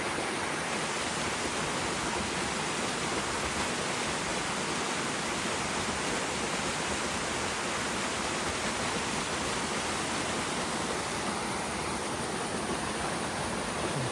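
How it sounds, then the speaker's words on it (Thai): A waterfall flowing below a forest trail, a steady, dense wash of rushing water that stays continuous and fairly faint throughout with no other sounds. "น้ำตกไหลผ่านข้างล่างไปเรื่อย"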